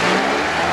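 A 140-horsepower Eagle Talon engine revs hard, a loud, close, sustained roar held steady through the brief moment with no talk.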